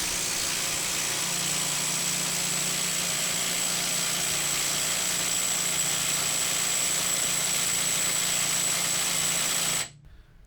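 Bauer brushless impact driver powered by a 3 amp hour battery, running steadily against a hydraulic dyno; a loud, constant motor whine holds for about ten seconds, then cuts off abruptly.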